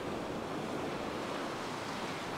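Ocean surf at a beach washes in as a dense, steady hiss of breaking water, fairly loud and close, with no voices.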